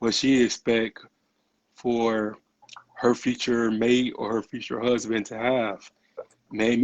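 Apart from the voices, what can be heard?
None of the usual background noises is heard.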